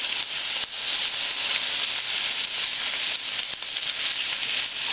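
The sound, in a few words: potatoes frying with carrot and champignon mushrooms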